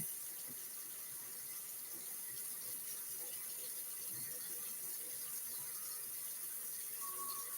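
A kitchen tap runs hot water in a steady, faint hiss with a soft splashing wash, continuous and unbroken, with a brief high squeal near the end.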